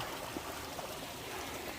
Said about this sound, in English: There's a nice little waterfall I can show you, or water source.